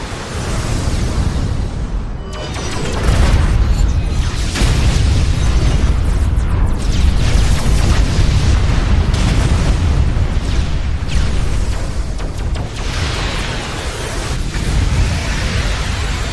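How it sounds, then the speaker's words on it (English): Pulse cannons blasting during a base defense battle in the space strategy game Vega Conflict, a loud dense barrage of booming explosions and bursts rolling on without pause and with no voices. "Pulse cannons don't really fire that long, but it is extra firepower."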